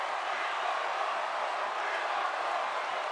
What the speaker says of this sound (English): The crowd wants more. They're shouting, we want more.